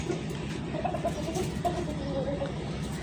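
Rooster clucking in a village, with short repeated calls over a steady outdoor background and no talk.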